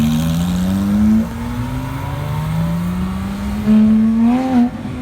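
A V10 car engine drones and revs with a deep, low exhaust note, swelling louder twice, close by and with no talking.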